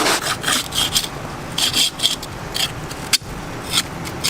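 A tool cuts the bead off a rusty wheel rim from a 1979 Honda Odyssey FL250, giving a loud, continuous harsh rasping and grinding with rhythmic surges, up close.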